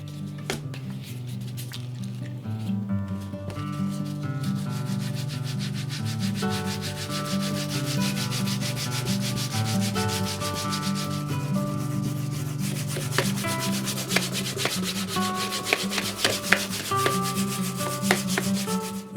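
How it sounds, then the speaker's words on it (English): A NordMende Elektra 58 radio case is rubbed down by hand with fine wet-and-dry sandpaper, giving a steady, close, continuous scraping that keeps a brisk back-and-forth rhythm throughout, with no talk. "So I'm going to rub it back with some fine wet and dry"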